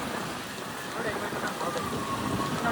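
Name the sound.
rain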